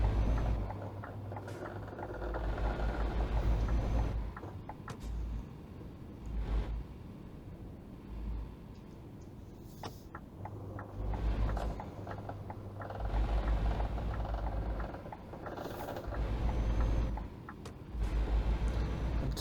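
An inexpensive Scania truck in the Euro Truck Simulator 2 video game drones along with a steady diesel engine tone that swells and eases in repeated cycles, plus brief mechanical clicks, with no talking.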